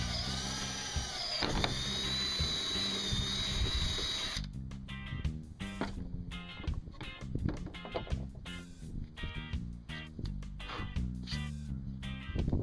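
A power drill whines steadily at first, then a 1.5-inch hole saw grinds and chatters in bursts as it cuts the center hole in a kayak backing plate, close and loud.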